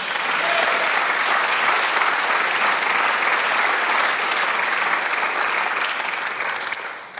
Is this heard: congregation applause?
yes